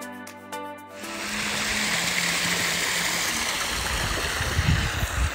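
A waterfall in Bali roars steadily as broad, continuous rushing water, loud and close, after a brief quieter moment at the start.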